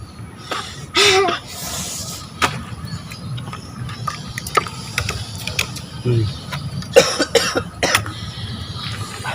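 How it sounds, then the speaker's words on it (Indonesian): Coughing fits from someone who has just eaten fiery sambal with shrimp paste and tofu, several sharp bursts spread across the stretch with faint clicks and small movement noises in between, close to the microphone and with no talking. "Sampai batuk-batuk guys."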